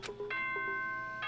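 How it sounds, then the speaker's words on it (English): A ding-dong chime from the video game Danganronpa rings softly, with a few bright bell tones sustaining and fading, followed by a second chime at the end. "Yep, ding dong bing bong."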